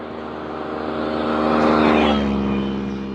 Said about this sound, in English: Three-wheel motorbike.